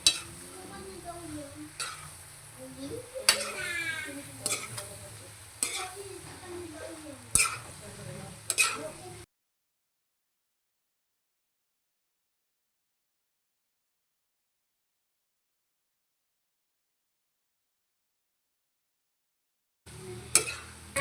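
Sliced pork entrails for bopis stirred in a pan, a soft scraping and faint sizzling with light clinks of utensil on metal for about nine seconds, then silence, then a brief return of stirring at the end.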